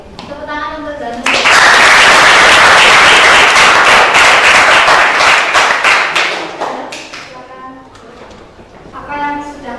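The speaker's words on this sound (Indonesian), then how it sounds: "Tepuk tangan untuk Zanur." Classroom of children clapping for a student, a dense burst of applause swelling near and loud for about five seconds then tapering off, with a teacher's voice talking before and after.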